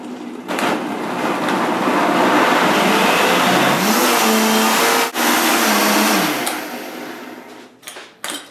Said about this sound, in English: And start the blender.